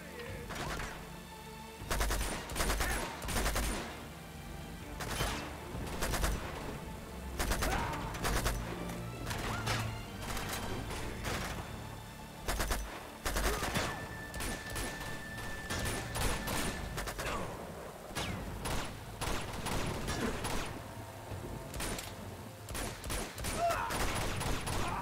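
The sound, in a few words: gunfire in the video game Uncharted 2: Among Thieves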